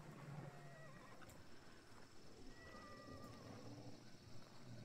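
A horse whinnies faintly in the video game Hunt: Showdown, with thin wavering calls in the middle distance over steady low ambient noise.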